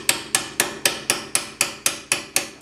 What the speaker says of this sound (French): Un marteau pour tapoter.